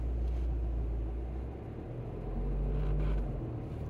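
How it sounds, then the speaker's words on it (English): Road traffic passes on the road right in front, a continuous low rumble of cars that swells as a vehicle goes by near the end, with no voices. "can you believe there's that much traffic on this road right in front of us?"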